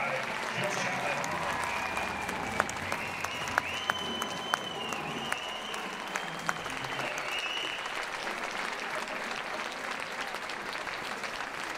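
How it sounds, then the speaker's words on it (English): Steady crowd applause fills a basketball gym during a jersey retirement ceremony for number 45, sustained and fairly distant, with a few sharp claps and whistles standing out. "let's give another big round of applause for number 45, Jill Chapman"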